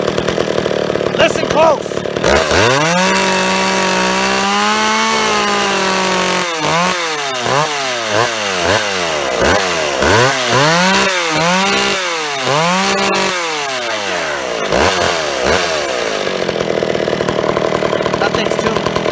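An old chainsaw engine being revved while its carburetor is tuned, rising and falling in repeated sharp throttle blips after a sustained high run, loud and close, with a short spoken remark near the start.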